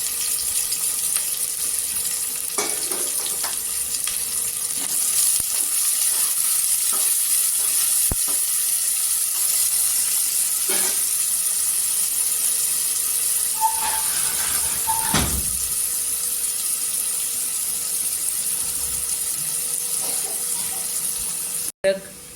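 Two finely chopped onions frying in a pan at home, giving a steady, close hiss and sizzle with a few soft clinks and stirring scrapes, ending in a sharp knock.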